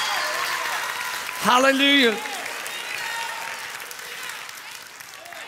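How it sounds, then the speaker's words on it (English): A church congregation claps in praise in a steady, sustained round of applause, with a loud voice calling out briefly over the clapping before it fades and continues. "give the Lord the loudest clap of praise"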